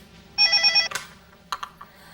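A telephone rings with one steady electronic trill burst, followed by a click and faint handling noises, indoors in a domestic setting.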